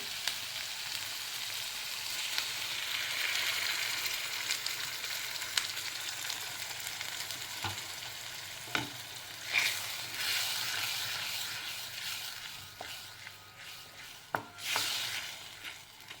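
Spinach sizzles in hot oil, a continuous frying hiss broken by several sharp clinks and scrapes of stirring; no voices.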